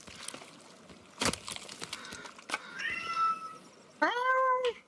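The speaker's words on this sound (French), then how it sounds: "Ta gueule, le chat." A cat in the survival game The Forest meows twice, a shorter call followed by a longer, louder drawn-out meow near the end, with sharp clicks and thumps of gameplay scattered before it.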